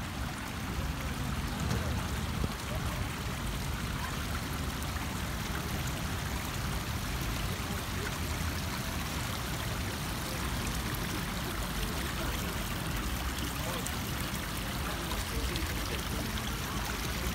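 Steady rushing of flowing water in Al Shaheed Park, Kuwait, broad and continuous, close by, with no pauses or voices.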